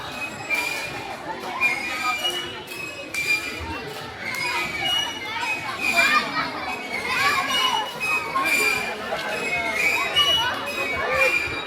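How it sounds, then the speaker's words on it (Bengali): Children play in the children's park at Bangladesh National Zoo, with lively overlapping shouts and chatter from many kids, near and far, under a busy crowd background. "শিশুগুলো দেখুন কত মজা করছে।"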